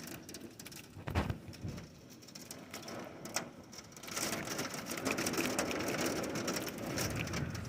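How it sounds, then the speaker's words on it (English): Hail and heavy rain hammer down during a big storm, a dense crackling patter with a few louder hits early on, then building to a steady, thick roar. "Still got the hail."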